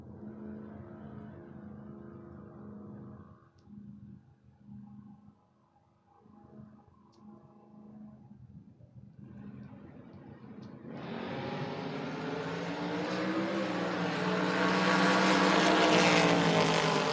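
A Camaro and a rival car at a drag racing event, heard as a low engine rumble that builds sharply into a loud, roaring wide-open launch, growing louder and fuller through the end.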